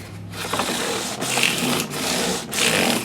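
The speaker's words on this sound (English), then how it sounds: "just the sound of the abrasive. Third piece of 600. Now our 1200 grit." Rubbing strokes of 1200 grit abrasive paper sanding a Gibson Custom Shop guitar finish, loud and close, in steady back-and-forth passes with brief pauses between strokes and no talking.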